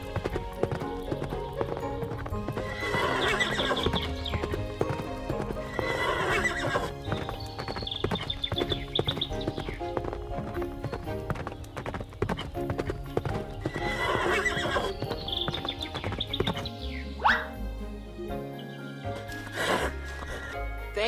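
Horse hooves clip-clop in a steady rhythm with loud neighing and whinnying over busy background music in an animated cartoon, a snort near the end.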